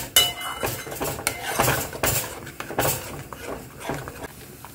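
Metal spoon stirring and scraping yogurt curry in a pan over low heat, with repeated clinks and scrapes in an uneven rhythm, close and moderately loud.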